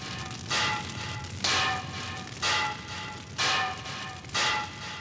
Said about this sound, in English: Here he's banging on some anvils.